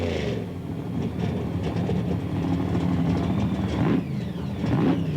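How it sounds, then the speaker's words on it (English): A supercharged drag racing car at the World Finals in Orlando rumbles loudly and steadily up close, its dense engine roar climbing in pitch in two quick revs near the end, with no voices over it. "Robbins now brings the supercharger to life. You hear the RPMs coming up."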